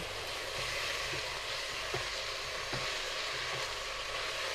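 Spiced pilaf ingredients with salt and Mediterranean herbs sizzle and fry in a multicooker while being stirred, a steady close hiss with a few faint scraping knocks.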